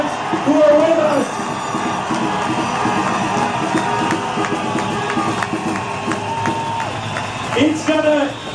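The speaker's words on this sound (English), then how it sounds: "Let's give a huge round of applause for the parents and the students who are with us" A large crowd at a rally applauds parents and students with loud, sustained clapping mixed with cheers and whoops, swelling again near the end.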